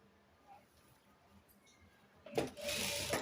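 Sewing machine stitching a 10-year-old boy's pyjama, coming in suddenly after a quiet stretch as a close, steady whirring run of stitching that lasts to the end.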